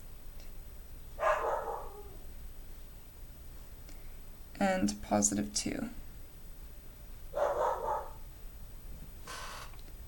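Dog barking outdoors in a few separate short bursts spread across the stretch, moderately close, alternating with a person talking to themselves indoors.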